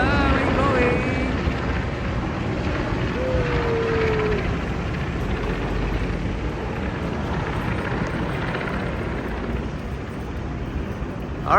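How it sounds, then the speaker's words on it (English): A helicopter drones steadily overhead with a broad, continuous rumble, mixed with outdoor city background noise and some brief voices, on London's Victoria Embankment by the River Thames. "Nice helicopter."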